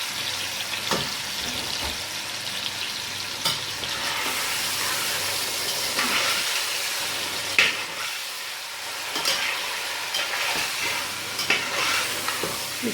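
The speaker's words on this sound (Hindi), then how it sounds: "इसको यूँ हल्के हाथ से आप भूनेंगे। अभी मज़ीद कुछ भी मैंने इसमें नहीं डाला हुआ, सिर्फ लहसुन अदरक का पेस्ट लगाया हुआ है" Mutton coated in garlic-ginger paste sizzles and fries steadily in a pot while being stirred, with a continuous close sizzle and occasional spoon clanks, no talk.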